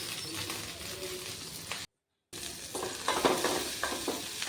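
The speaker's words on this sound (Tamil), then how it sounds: "கரு கருவேப்பிலை போட்டு நம்ம வதக்கி விட்டுக்கலாம்" Curry leaves sautéing in a pan for a moong dal kuzhambu give a steady close sizzle with scraping stirs, broken by a brief silent gap before the frying crackle swells louder with bursts of spattering.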